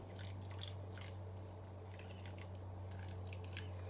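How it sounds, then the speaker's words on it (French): Boiling water poured onto couscous in a small bowl, a quiet, steady trickle and splash with soft dripping, accompanied by a low constant hum. "je vais rajouter de l'eau bouillante"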